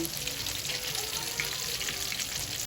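Split-open milkfish (bangus) sizzles in hot frying oil, a dense, steady crackle at close range with no one speaking.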